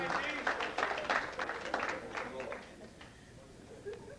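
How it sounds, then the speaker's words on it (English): Round of applause from a small audience at a gathering, a brisk cluster of claps that fades out, with voices talking underneath; fairly quiet overall. "give her a nice round of applause"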